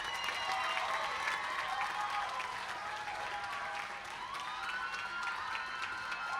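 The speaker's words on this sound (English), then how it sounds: "Let's have a huge round of applause for the graduating class of the MPAs." Sustained applause from a large commencement-ceremony audience honoring the graduating class, steady and dense with faint cheers and a few scattered shouts mixed in throughout.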